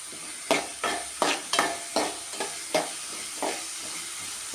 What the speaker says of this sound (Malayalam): ഇച്ചിരി ഉപ്പും കൂടെ ഇട്ടാണ് ഞാൻ ഈ സവോള വഴറ്റുന്നത്